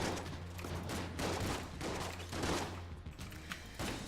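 Repeated gun bursts from Enter the Gungeon, a bullet-hell dungeon shooter, sounding in fairly steady clusters over a low humming game soundtrack, moderately loud and with no talking.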